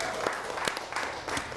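An audience at a business talk show claps for a winning contestant, a short, close burst of scattered clapping with a few sharp individual claps standing out.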